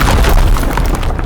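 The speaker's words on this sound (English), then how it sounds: "end your turn to watch the strike land" A strategic strike landing in the game Menace, a loud, dense, close explosive boom that rumbles throughout.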